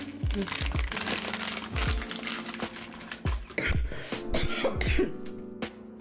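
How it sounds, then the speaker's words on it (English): Several sharp coughs and throat clearings break out close to the microphone, scattered irregularly over a background of faint crinkling and a low hum. "There is a lot of coughing."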